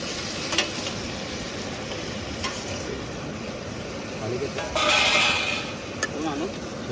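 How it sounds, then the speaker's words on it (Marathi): Yogurt-and-spice marinated chicken hits hot oil over fried ginger-garlic at an outdoor rainy-season cookout. A steady sizzle swells into a louder hiss midway, while voices talk over it. "आलं लसूण पण मस्त की फ्राय झालेला आहे चिकन टाकून घेतो"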